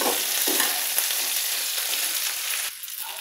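Eggplant pieces sizzle steadily in hot oil in a pan, with a bright, continuous frying hiss and occasional soft knocks as they are stirred, close by and without talk.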